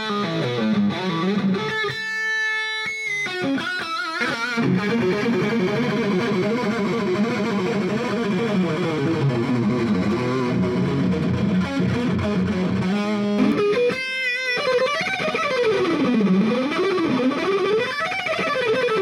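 Electric guitar played through an overdriven 2-Rock amp, thick high-gain distortion with sustained chords and wavering, bending lead lines, loud and continuous with brief pauses between phrases.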